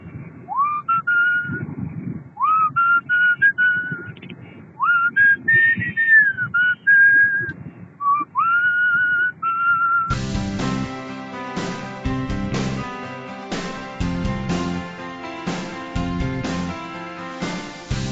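A person whistles a tune in clear sliding notes for about ten seconds, then instrumental music takes over.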